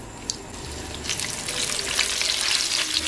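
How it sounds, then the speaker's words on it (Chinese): Shiitake mushrooms coated in starch lowered seam-side down into hot oil, a soft splash then a swelling, steady crackling hiss of deep-frying, close and loud. "油温500放入油锅中炸，先将封口的这一面放下去"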